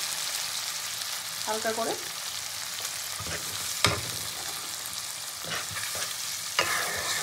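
Onions sizzle in a pan with a pinch of sugar for a chicken curry. A soft, steady fry runs throughout, broken by sharp clinks and scrapes of a spoon stirring against the pan, and a brief spoken phrase.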